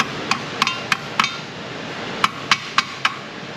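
Metal socket used as a makeshift hammer on a rusted 2011 Kia Sorento brake assembly, striking in sharp clinking taps: four quick hits, a pause, then four more, close and loud.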